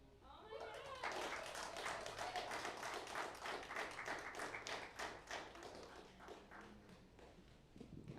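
Audience applause after a slam poetry reading at The Cave Collective: a small crowd's steady clapping that rises quickly, holds for several seconds and tapers off, with voices mixed in.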